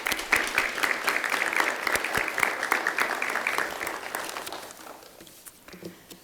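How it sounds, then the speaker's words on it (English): An audience at a fall 2020 nursing pinning ceremony applauds with steady, dense clapping that starts loud and gradually thins and fades toward the end. "Let's give everybody a round of applause."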